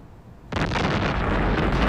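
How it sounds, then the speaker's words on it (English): Gunfire erupts in a staged shootout: after a quiet lead-in, a sudden loud, booming blast rolls into a sustained rumbling roar, close and overpowering, with no talking. "as soon as I call for the draw, you're gonna shoot each other"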